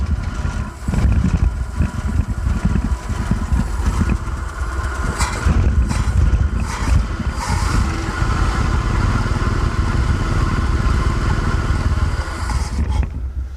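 A 1967 Ford F250 truck engine, revived after sitting for years and with an exhaust leak, cranks and fires up, then runs loud and rough at a steady idle close to the microphone.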